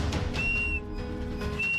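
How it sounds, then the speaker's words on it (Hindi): Whistle blown by a man dangling in a deep ravine calling for rescue: two sustained high steady tones, the first longer and the second cut off at the end, faint and distant-sounding over a low background rumble. "आदित्य सीटी बजाते रहे"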